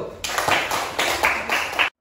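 Elementary schoolchildren in a classroom clap their hands together in quick rhythmic bursts, loud and close, ending abruptly.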